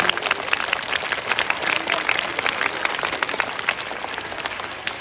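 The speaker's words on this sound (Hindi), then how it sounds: "तालियां फिर कमजोर रह गई बच्चों की।" Schoolchildren clap together at a Road Safety Month celebration at TM International School, a steady, fairly weak patter of many small hands that runs throughout.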